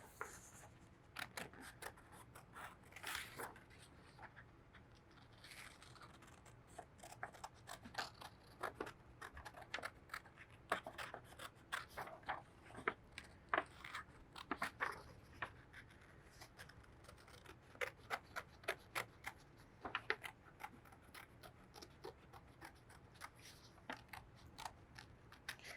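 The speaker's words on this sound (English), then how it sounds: "I'm going to take my scissors and I'm going to cut the outline of my rocket out" Scissors snip around the outline of a paper rocket shape in quick, faint, irregular cuts with small rustles of paper, close and quiet, with no talk.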